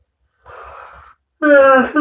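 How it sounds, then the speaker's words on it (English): A close, breathy human yawn: a soft airy intake, a brief pause, then a louder drawn-out groaning exhale. "I had to yawn."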